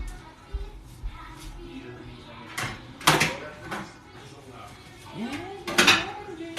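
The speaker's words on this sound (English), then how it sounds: "I'm gonna actually put it in a bowl because it's leaking." Foil-wrapped corned beef set into a bowl in a home kitchen makes clattering dish and foil knocks, with two sharper loud clanks and scattered smaller taps and rustles close by.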